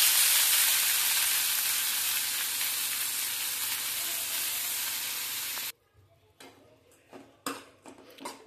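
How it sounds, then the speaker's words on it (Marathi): Fenugreek leaves sautéing in a hot pan give a loud, dense sizzle for several seconds, then the sound drops away abruptly, leaving faint scattered clicks and light utensil taps. "मी डायरेक्ट आता मेथी ॲड करेल त्यामध्ये आणि परतून घेईल"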